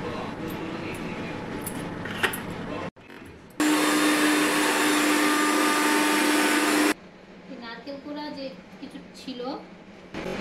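Electric kitchen grinder whirring loudly for about three seconds as it blends cashew paste with green chillies and water, a steady high-pitched motor drone, with someone talking before and after.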